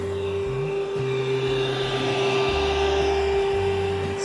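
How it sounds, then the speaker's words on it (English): A wet vacuum draws the last water from the bottom of a hot tub being drained for winter. The motor makes a steady, loud whine, and low gurgling sucking pulses run beneath it without a break. "we're using the vacuum to suck out"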